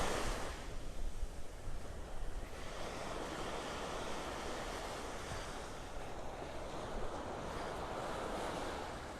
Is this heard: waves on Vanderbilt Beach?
yes